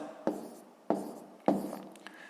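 Three distinct scratchy strokes of a pen on paper sound close and quiet, evenly spaced about half a second apart, as numbers are written out by hand for long division.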